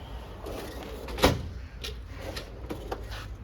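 Drawer of a large Snap-on roll cart sliding open, a single short rolling scrape with a sharp clack at the end, heard close in a quiet workshop with a few faint knocks afterward.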